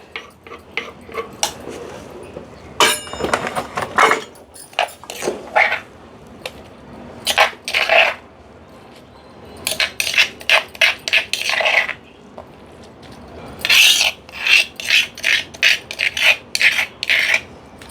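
Rhythmic pounding and grinding of coconut and raw mango chutney in a stone mortar, bursts of scraping strokes with short pauses, close and fairly loud.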